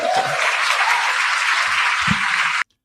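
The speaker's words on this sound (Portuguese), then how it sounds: "O pessoal gostou, o pessoal aplaudiu" Steady, dense applause from an audience at a court session fills the space for more than two seconds and then cuts off abruptly. A few faint voices are heard under the clapping.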